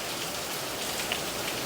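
Steady rain pattering on a Toyota Tundra pickup, a dense, even hiss of drops at moderate level with no voices.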